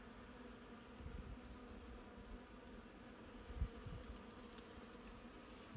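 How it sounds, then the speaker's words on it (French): Wasps feeding on flowering Virginia creeper outdoors, a faint steady insect buzz with a few slightly closer passes over quiet background. "il y a aussi des guêpes qui viennent se nourrir"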